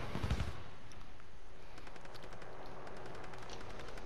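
A short burst of gunfire opens a Call of Duty: Modern Warfare Plunder match, then quieter distant rapid shots continue.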